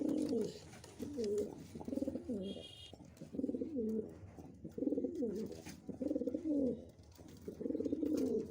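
Pigeons cooing close by in a loft, repeated low rolling coos arriving in a steady series of phrases with short pauses between them, and a brief high chirp partway through.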